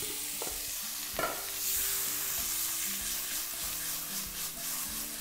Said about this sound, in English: There's a nice sizzle to that, so I know that my vegetables are ready to go in.